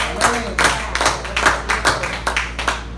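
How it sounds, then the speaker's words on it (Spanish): Congregation members clap during a church sermon, loud close handclaps in an uneven rhythm with separate distinct strikes, rather than a smooth wash of applause. "Denle un aplauso a Cristo"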